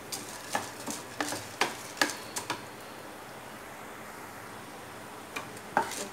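Toor dal dry-roasting in a pan, stirred with a utensil that gives light repeated ticks and scrapes over a faint, even hiss; fairly quiet and close, no voices.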